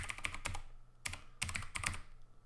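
Keys clatter on a computer keyboard in quick bursts of typing separated by short pauses, close and fairly quiet, with no voices.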